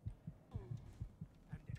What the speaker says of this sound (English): I hear my heart beating in my brain